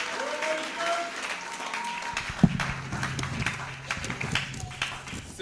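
Church congregation at a Sunday worship service clapping and cheering for the Lord, a busy wash of hands and voices filling the room, with a sharp clap standing out midway and murmured talk underneath.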